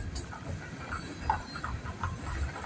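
A freight train keeps rolling past another train that has stopped, giving a steady rumble with faint wheel clatter, moderately loud and fairly close, with no speech over it.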